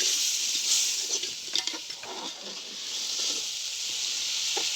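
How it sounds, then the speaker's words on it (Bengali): Browned onions sizzle in a pan as ginger and chili paste go in, a soft steady hiss with a few brief stirring scrapes, no voices. "পেঁয়াজগুলো লাল হয়ে এসেছে আর এবার আমি এর মধ্যে আদা ও লঙ্কা বাটা দিয়ে নিচ্ছি।"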